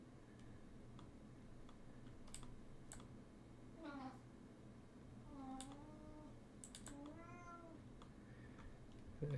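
A hungry cat meows impatiently in several drawn-out, rising calls spaced a second or two apart, moderately close, over a steady low room hum with scattered keyboard clicks.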